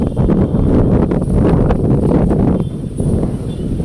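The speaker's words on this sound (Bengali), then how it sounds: "প্রচন্ড ঝোড়ো হাওয়া আর মেঘ জানিয়ে দিচ্ছি যে বর্ষাকাল দোরগোড়ায় সামনে একদম।" Strong stormy pre-monsoon wind buffeting outdoors, a loud continuous roar with gusty rumble and rustling throughout.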